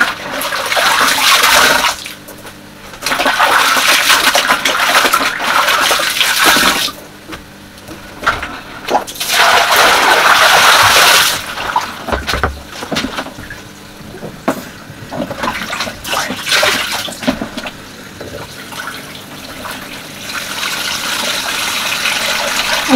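Laundry washed by hand in a tub of water in a UK home, with repeated sloshing, splashing and wringing bursts that come and go in uneven waves, close and fairly loud, with no talking.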